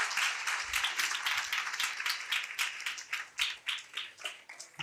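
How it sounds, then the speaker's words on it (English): A crowd at a devotional festival gathering applauds for a speaker, dense clapping that thins out into separate, louder claps toward the end. "a big round of applause for Prabhu for sharing his heartfelt wishes"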